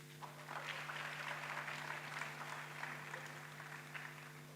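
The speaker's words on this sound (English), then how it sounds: "So a round of applause to the ladies." Faint, distant applause from an audience at a graduation ceremony, a steady wash of clapping over a constant low electrical hum.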